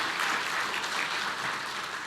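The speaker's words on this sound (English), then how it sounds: "I think that deserves a round of applause." A round of applause from the audience at Weslaco's State of the City address, dense and steady throughout, a crowd of many hands clapping together without pause.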